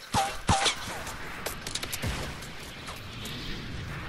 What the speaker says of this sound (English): Somebody's throwing rockets.